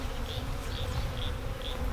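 Honeybees hum steadily during a hive move onto a new stand, a continuous low drone with short higher buzzes from individual bees passing close at regular intervals, no talking.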